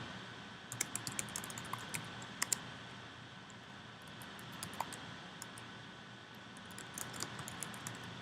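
Someone types a person's name on a computer keyboard in quick, light clicking bursts with short pauses, soft and close against a quiet room hum.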